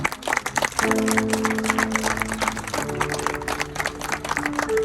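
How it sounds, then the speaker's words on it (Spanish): A church congregation clapping in praise during a Spanish-language service, steady mixed applause running throughout alongside sustained music or organ-like tones. "Dele un aplauso a nuestro Señor, ¿no?"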